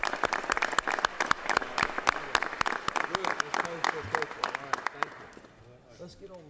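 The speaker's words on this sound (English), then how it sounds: "Give them a round of applause" Scattered, distinct handclaps ring out in the Georgia Senate chamber as brothers in the gallery are honored, sharp irregular claps fading toward the end with some movement and room noise beneath.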